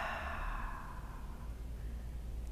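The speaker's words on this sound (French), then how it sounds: "expire tout l'air par la bouche" A slow, deep breath is pushed out through the mouth during a heart-opening yoga session, a soft airy whoosh that starts fuller and trails off quietly over a couple of seconds, faint and alone.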